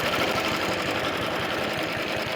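A vintage petrol cylinder lawn mower engine runs close by, a fast, even mechanical chatter that holds steady and loud throughout with no voices.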